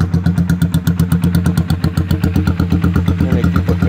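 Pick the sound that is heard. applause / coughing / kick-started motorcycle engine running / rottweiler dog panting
kick-started motorcycle engine running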